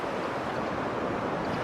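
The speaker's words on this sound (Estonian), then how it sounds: "Merekohin on kogu aeg kuulde ulatuses." Sea surf rolls onto the coast near Kolka in Kurzeme, Latvia, a constant broad roar of breaking waves mixed with wind, heard at a steady moderate level with no voices.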